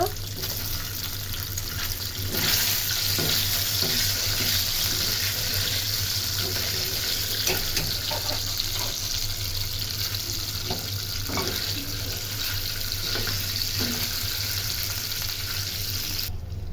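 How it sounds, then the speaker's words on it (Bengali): Chicken balls fry in soybean oil with a dense, steady sizzling hiss that runs unbroken and fairly loud throughout, with small crackles scattered across it. "এবার আমরা হালকা ফ্রাই করে নিব।"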